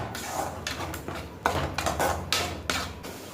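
Masala being sautéed in a pan, with a spatula knocking and clinking against the metal in a few sharp, irregular clanks over a low background hiss, close up.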